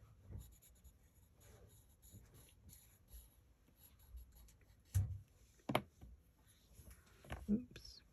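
Coloured pencil scratching and scribbling on paper while drawing a robin and mistletoe wreath, soft close strokes in short bursts with a few sharper taps, under quiet talk.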